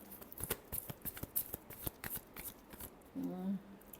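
Tarot cards are shuffled by hand in a string of quick, crisp riffles and flicks close by, followed by a brief voice near the end.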